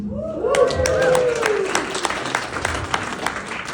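Comedy club crowd in Las Vegas clapping and cheering for a stand-up comedian, a broad wash of applause with a rising whistle or whoop early on, fading gradually while the room stays noisy.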